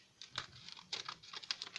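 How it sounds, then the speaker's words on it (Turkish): Scissors cut open a stationery package in a quick run of close, crisp snips and crinkles lasting under two seconds, with no talk. "O yüzden ben de yanımda zaten makasımı getirmiştim. İçindeki eşyaları yırtmadan keselim."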